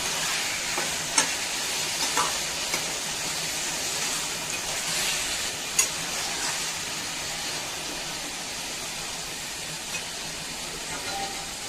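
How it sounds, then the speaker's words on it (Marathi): Potato pieces with green chili and salt fry in a pan, giving a steady, bright sizzle throughout with a few sharp clicks and stirring knocks. "चला तर आता बटाटा फ्राय होईपर्यंत त्यावरती आपल्याला 4 ते 5 मिनिट झाकण ठेवायचंय"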